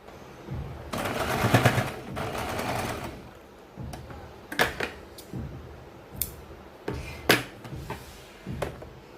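A sewing machine stitches a baby circle frock in bursts of rapid mechanical chatter: a long run early, then shorter runs with clicks and handling taps between them, close and clear with no talking.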